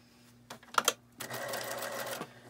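Sewing machine stitching a fabric face mask, a brief rattle of clicks and then a close, steady whir of rapid stitching lasting about a second before stopping, under a faint background hum.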